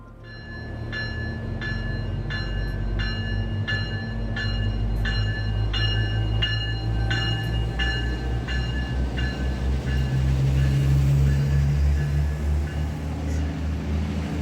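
Sonoma SMART commuter train cars 106 and 105 pulling away from a station platform, a deep diesel rumble building steadily under a rapid run of regular rhythmic clicks, loud and continuous throughout.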